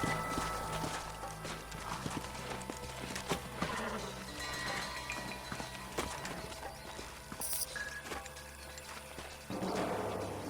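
Hooves clip-clop steadily over ground as horses walk and shuffle in the video game Red Dead Redemption, with occasional snorts and a busy, continuous ambient backdrop.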